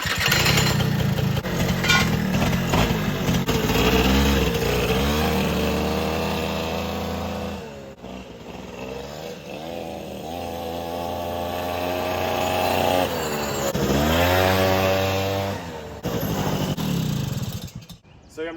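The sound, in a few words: Suzuki Quadsport LT80 ATV engine running during ride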